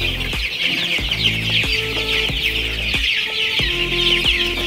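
Andijan black chickens cluck repeatedly nearby in short, overlapping bursts, with chirping chicks adding a continuous high twitter underneath.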